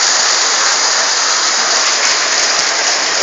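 Hail pours down hard outdoors at Yadamah, a loud dense continuous hiss and patter of ice striking surfaces, steady throughout with no voices.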